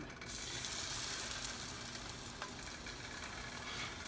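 Salmon patties fry in hot oil in a cast iron pan, giving a dense, steady sizzle that stays close and even throughout, with a faint clink partway and no talking.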